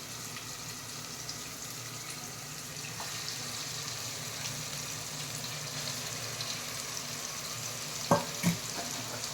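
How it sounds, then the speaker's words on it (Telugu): Mutton added to a pan for curry sizzles with a steady, moderate frying hiss close by, then a couple of brief clinks or scrapes near the end, with no voices. "మటన్ వేసుకుందామండి."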